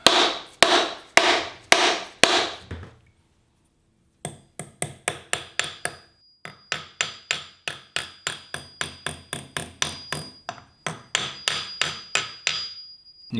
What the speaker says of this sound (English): the tone that the hammer was making, it was making a nice ringing sound